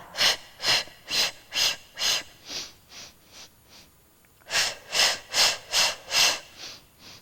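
Rhythmic breathing during a Pilates hundreds exercise on a mat: a steady run of short, close, audible breath pulses, about ten in a row, then a softer stretch of fainter breaths and a brief pause, then another strong run of paced breaths.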